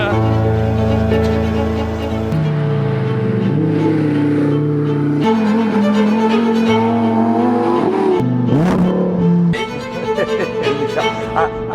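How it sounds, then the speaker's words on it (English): A 2020 Lamborghini Huracan EVO RWD with a naturally aspirated V10 engine drives hard, its loud, close engine note rising and stepping through gear changes with no talk. "it's a V10, no turbo, and that makes a big difference"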